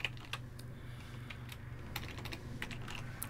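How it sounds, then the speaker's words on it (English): Someone types on a computer keyboard at close range, with quiet, irregular keystroke clicks over a low steady hum. "My typing is rubbish sometimes."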